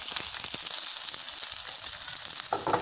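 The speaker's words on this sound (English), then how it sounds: "So the onions have been cooking for a minute or so." Onion frying in a pan for a sausage crepe filling, giving a continuous dense hissing sizzle with faint scattered crackles, steady and close, no talking.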